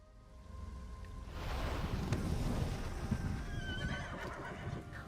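A pony neighs and whinnies in Elder Scrolls Online, a loud drawn-out call with hoof clip-clop and windy rustle beneath it, lasting most of the few seconds.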